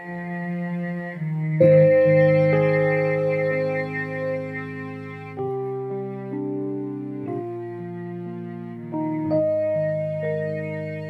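A lone bowed cello from a default Logic software instrument plays a slow, sustained melody, each note held long with smooth changes between pitches, fairly loud and with no other instruments.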